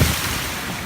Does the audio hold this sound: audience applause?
no